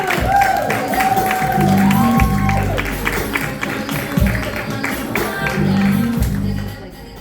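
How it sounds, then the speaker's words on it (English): Audience applause and clapping at a live variety show, a steady wash of claps with some cheering that fades toward the end, with a voice and tonal sounds over it. "I'd like you all to give a really warm round of applause. Start clapping right now"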